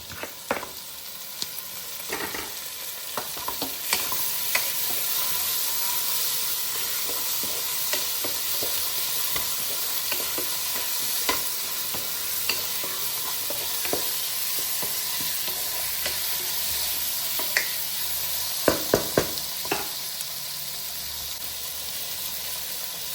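Tomatoes sizzling steadily in hot oil for a kappa biryani, with scattered scrapes and clinks of stirring in the pan, loudest near the end.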